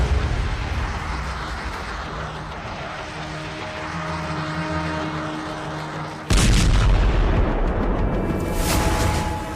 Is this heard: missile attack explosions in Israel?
yes